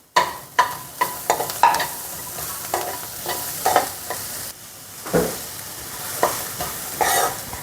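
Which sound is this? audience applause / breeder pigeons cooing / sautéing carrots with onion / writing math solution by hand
sautéing carrots with onion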